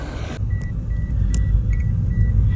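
A car comes up from behind on the mountain road between Chitral and Shandur, making a steady, loud, close engine rumble with a few faint high beeps over it.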